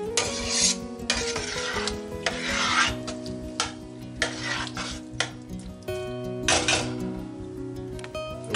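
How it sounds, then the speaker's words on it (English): Spoon stirring tomato paste into salsa in a cooking pot, a series of soft rasping scrapes in uneven bursts, close and fairly quiet, with no talking. "Got 3 ounces of tomato paste. Give that a little stir."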